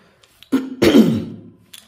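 A person coughs in a hoarse burst, throat-clearing into a strong cough of about a second, near and loud against a quiet background, with no speech.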